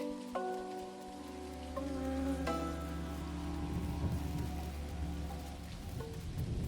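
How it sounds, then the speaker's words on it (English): Rain in the video game Dinkum falls as a steady soft patter across the whole stretch, with sustained tones of creepy background music layered over it; no speech. "It's raining."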